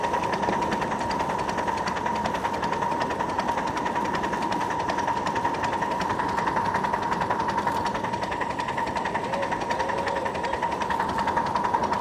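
Steam locomotive running on wet, not fully superheated steam through a rail yard, a steady continuous mechanical rumble and hum with a rhythmic pulsing chuff, close and unbroken, with no talk.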